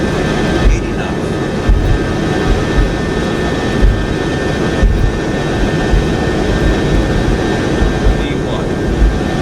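Boeing 707 jet engines run at takeoff power in Microsoft Flight Simulator 2024, a steady loud roar and whine that holds throughout with faint periodic thumps, as a cockpit voice calls out over it.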